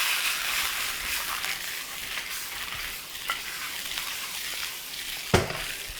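Chicken wings and spring onions tossed in a hot wok for chicken lollipops, with a constant hissing sizzle, scattered light scrapes and one sharp clank near the end, heard up close without voices.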